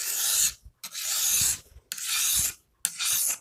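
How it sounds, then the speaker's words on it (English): Garden shears are rubbed over a fine Edge Pro sharpening stone in four smooth, gritty strokes, each lasting about half a second to a second, with short pauses between them and soft knocks at the stroke ends. "I'm going to see if I can just lightly remove that burr with a finer stone"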